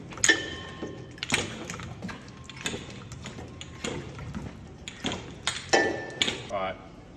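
Milking cups pulled from the jetters in a dairy shed and left hanging, giving repeated close metallic clinks and clatters over a steady low hum.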